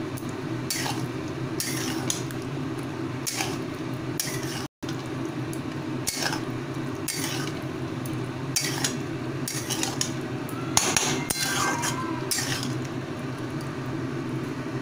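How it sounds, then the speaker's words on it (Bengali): Marinated chicken being worked into spice masala in a pot, with a steady run of metal spoon scrapes and clinks against the pot over a continuous low cooking hiss, close and even. "এবার ভালোভাবে মশলাটার সাথে মাখিয়ে দেবো"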